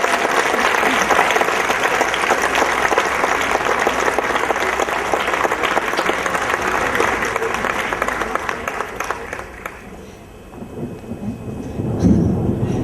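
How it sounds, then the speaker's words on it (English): A large crowd at a 2014 high school graduation ceremony applauds in a dense, roaring wash of clapping that holds steady for several seconds, then thins and fades out near the end. "Now please give the silver seal recipients another round of applause."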